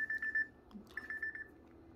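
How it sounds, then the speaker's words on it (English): An electronic alarm beeps in quick repeated pulses, pauses briefly, then beeps again, fairly faint against low room noise during a meal of Mexican food with carne asada. "my alarm's going off"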